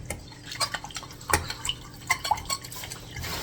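Sweet and sour chicken sauce is stirred in a pan. Soft, scattered scrapes and light clinks of a utensil against the pan sound close and fairly quiet, with a little liquid slosh and no talking.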